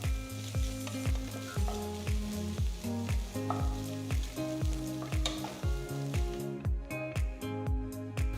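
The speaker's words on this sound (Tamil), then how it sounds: "கொஞ்சம் வதக்குங்க." Crushed garlic and ginger sauté in hot oil in a pan, a steady close sizzle broken by rhythmic, evenly spaced stirring strokes throughout, with no voices.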